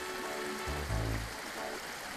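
Cartoon stream water rushes and gurgles steadily as a donkey is led through it, a soft, continuous flowing wash with a brief heavier splash in the middle.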